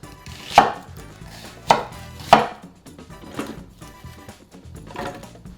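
A knife chops green onions for a jerk chicken marinade on a cutting board, three sharp distinct chops early, then softer irregular cuts trailing off, close and clear with no talking.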